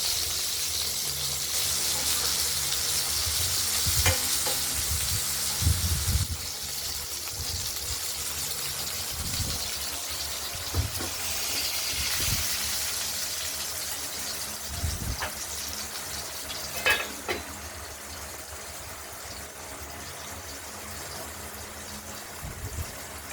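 Pointed gourd (potol) fries in oil in a kadai, giving a soft, constant sizzling hiss broken by a few faint clinks and bumps, quiet throughout.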